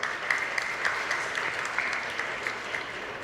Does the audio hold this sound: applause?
yes